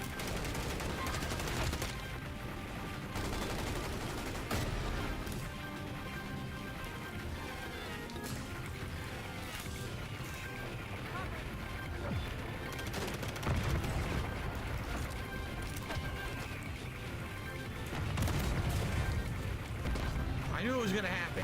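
Rapid bursts of video game gunfire, strafing and sniping shots, crackle through a busy mix of game sound, with a voice talking over much of it.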